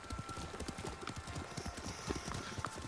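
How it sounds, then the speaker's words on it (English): Horse hooves clip-clop steadily while riding in the samurai video game Ghost of Tsushima, a quick, even rhythm of close hoof beats with faint background ambience. "Now I'm riding with a real horse."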